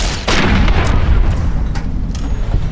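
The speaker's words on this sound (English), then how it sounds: "Blast him with a rifle, boy." Rifle fire aimed at a centaur in Fallout: New Vegas, a loud close boom followed by a sustained rumbling, echoing blast and a few sharper follow-up cracks.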